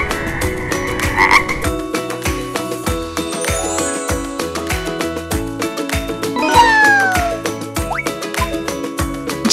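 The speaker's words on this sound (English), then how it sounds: "F is for frog." A frog croaks repeatedly in a steady pulsing rhythm, loud and close, with a short twinkly musical flourish layered over the croaks in a cartoon alphabet scene.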